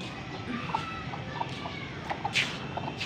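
Chickens cluck in short scattered bursts at a moderate distance over a steady outdoor background hum.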